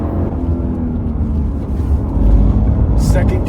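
Lexus IS 500 V8 pulling in second gear through a tight set of twisty corners, a steady loud low engine drone with wind and road rumble that swells slightly near the end, while someone talks over it.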